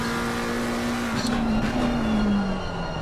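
Race car at Kyalami heard from an onboard camera in a racing video game, a loud sustained engine drone with pitch slowly falling as it lifts off, steady and close with no talk.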